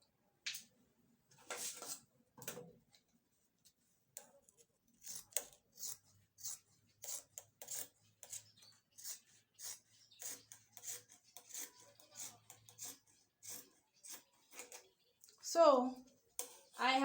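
Scissors cutting fabric pieces for a men's shirt, with repeated short crisp snips and rustling of cloth, fairly quiet and close, interspersed with a person talking.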